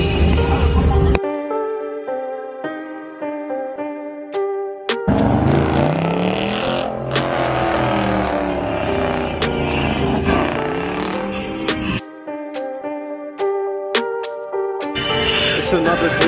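Car revving and passing at a car meet, a loud engine roar with rising and falling pitch that swells in the middle, broken up by sharp bursts and stretches of harmonic tone, with some talk underneath.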